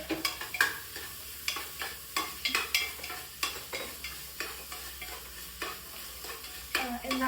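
Chicken with turmeric is stir-fried in a pan, with rhythmic scraping strokes of a spoon repeating every half second or so over a continuous close sizzle.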